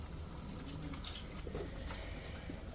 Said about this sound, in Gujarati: પાણી નાખીને એમાં ફિલ્ટર પાણી.